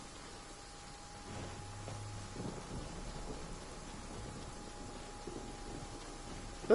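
Soft rain patters steadily in Genshin Impact while a low thunder rumble swells briefly, all faint and distant beneath a thin constant tone.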